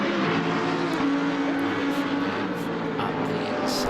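Lamborghini GT3 race car engine at Silverstone in a racing video game, a steady high-revving drone held at full throttle down a straight, continuous and fairly loud with a slight pitch rise and no talk over it.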